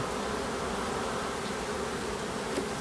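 Honeybees buzz steadily at a hive during a spring inspection. The drone is a continuous, close swarm hum with no pauses.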